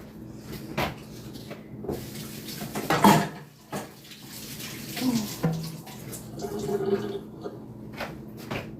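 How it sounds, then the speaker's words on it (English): Asparagus spears are rinsed under a running kitchen tap, with water splashing and gurgling in uneven bursts, a louder clatter near the middle and quieter trickling around it. "And I'm gonna give it a little rinse."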